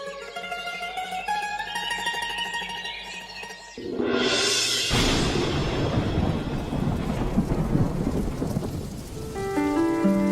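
Monsoon rain pours on a rural afternoon as a loud thunderclap bursts in after a stretch of music, followed by a heavy, continuous downpour and rumbling that fills the rest of the scene.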